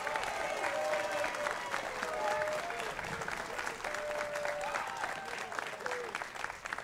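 An audience at the Army and Navy Academy commencement claps in sustained, dense applause filling a large space, with cheers and whistles rising above it and staying steady for several seconds.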